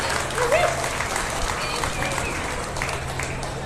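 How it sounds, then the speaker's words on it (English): An audience at a 2023 beef cattle show applauds a female heading back to the barn, steady crowd clapping throughout with a brief voice over it. "let's give her a round of applause as she heads back to the barn"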